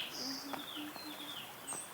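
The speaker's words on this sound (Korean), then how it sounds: "징검다리의 새소리." Several birds chirp and whistle in short high notes by stepping stones in Georgia, overlapping against a quiet outdoor background.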